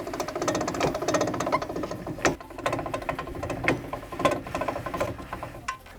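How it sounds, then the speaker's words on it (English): A camper trailer roof is wound down by hand crank, giving a continuous ratcheting, whirring mechanical churn with uneven clicks and knocks, fairly close and steady throughout. "you can wind the roof all the way down."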